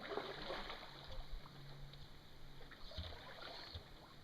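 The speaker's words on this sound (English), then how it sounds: "Yeah, this creek goes really fast." Fast-running creek water swirls and splashes around an aluminum canoe, a steady rushing wash with occasional nearby knocks and splashes, fairly faint and continuous.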